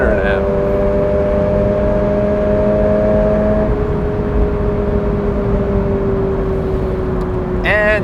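A 2022 Toyota GR86 engine holds a steady, sustained drone with a slight shift in pitch partway through, loud and close, with no talking over it.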